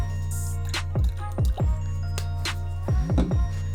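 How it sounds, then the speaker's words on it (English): A couple of squirts of Rejuvenator cleaning solution go into a large bowl of water while restoring Nike Air Max 90 Doernbecher sneakers. The short wet squishes and drips land over steady background music. "squirt a couple of squirts of our Rejuvenator solution into our colossal bowl with water"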